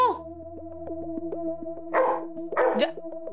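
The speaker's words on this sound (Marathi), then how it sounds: "कुत्र्या भुंकू नको रे" A dog barks twice in quick bursts inside a home, close and fairly loud over a steady musical background.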